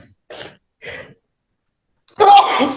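A courtroom sneeze: two short sharp inhaled gasps, a pause, then a loud explosive sneeze close to the microphone.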